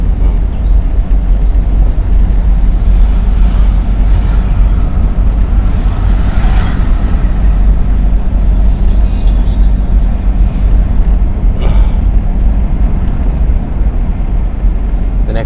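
A car engine hums and pulls steadily during a driving lesson on a Sylhet road, a loud, continuous interior drone with road noise and no clear speech.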